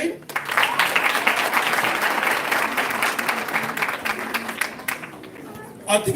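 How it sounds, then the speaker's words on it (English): Audience at a book launch breaking into sustained, dense applause, a crowd of many hands clapping steadily for several seconds before it tapers off near the end. "A big round of applause again."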